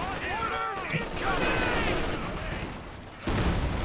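Rifles and machine guns from Company of Heroes 2 crackle in short bursts during a 2v2 match, with single shots and rapid volleys at mid distance while a voice talks over the gunfire.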